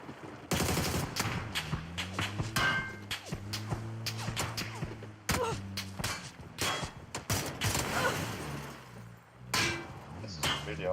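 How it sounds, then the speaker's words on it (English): Gunfire in a PUBG ranked match, rapid bursts of loud shots in clusters with short gaps between volleys, while players talk over the action. "Are they shooting you?"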